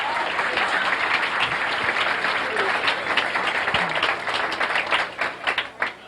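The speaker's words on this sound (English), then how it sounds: "Let's have a nice round of applause." A comedy-club audience gives a standup comedian at a 1987 TV taping a sustained round of applause: dense, steady clapping from a sizeable crowd that holds throughout and thins slightly near the end.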